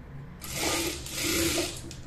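Sewing machine stitching a folded edge on a small child's frock, a short close burst of whirring in two quick runs with a brief pause between.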